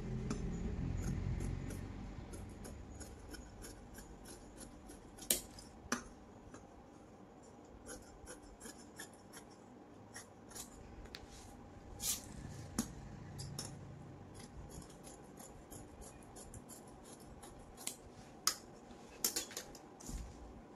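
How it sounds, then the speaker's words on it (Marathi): Scissors snip through blouse fabric while a princess-style size 30 blouse is being cut out. The cuts come as faint, scattered crisp clicks over a quiet background, with no talking. "तर अशा पद्धतीने बघा, आहे तसंच पूर्ण कटिंग करायचं आहे।"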